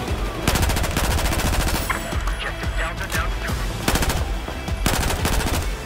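Rapid automatic gunfire in Battlefield 4 rattles out as dense, continuous bursts of sharp shots, loud and close, with a few brief crashes mixed in throughout.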